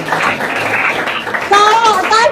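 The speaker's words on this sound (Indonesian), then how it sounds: "Oke, tepuk tangan buat Andre." Classroom of students clapping for a classmate, brief scattered hand claps near the listener, mixed with children's voices and a teacher talking.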